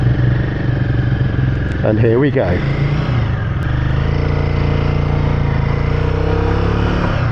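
A Royal Enfield Guerrilla 450 single-cylinder motorcycle idles with a steady low throb while someone talks over it, a brief rev rising partway through on an overcast day.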